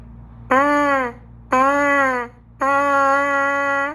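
Three sustained buzzing tones, each held about a second with a gliding pitch, the last one longest, lips buzzing into a trumpet mouthpiece, loud and alone.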